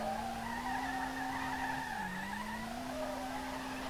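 Sustained squeal of tires as a car drifts in the racing game SLRR, a BMW-engined Datsun S30 sliding steadily with a continuous whine that dips briefly in pitch midway, loud and alone with no talk.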